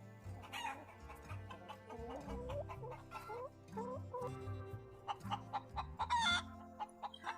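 Chickens cluck and murmur up close, with a rooster crowing partway through and a quick run of short, sharp clucks near the end.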